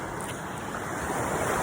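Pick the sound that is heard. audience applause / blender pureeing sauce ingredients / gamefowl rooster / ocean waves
ocean waves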